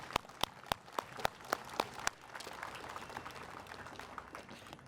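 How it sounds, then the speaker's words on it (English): A handful of sharp, evenly spaced claps ring out over the first two seconds at a Memorial Day event honoring veterans, then fade into a soft, diffuse patter of scattered applause and room murmur. "How about a round of applause for our veterans?"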